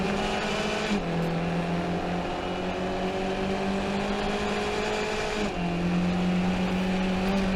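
Race cars at Summit Point circuit scream past on the track. One steady engine note drops in pitch twice as cars go by or shift gear, loud and continuous throughout.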